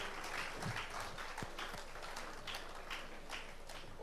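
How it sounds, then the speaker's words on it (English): Light, scattered applause from a gathered audience at a celebration event, thin and fairly quiet with a few sharper claps, ending in a sudden louder burst. "Put your hands together for Nana once again."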